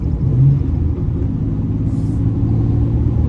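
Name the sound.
2000 Ford Ranger 3L with Dynomax cat-back exhaust running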